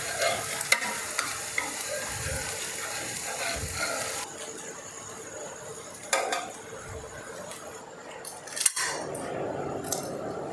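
Crispy road-side cart-style dosa cooking on a hot pan, a steady sizzle and fry hiss with occasional scraping and clinks of a spatula against metal, close and continuous with no talking.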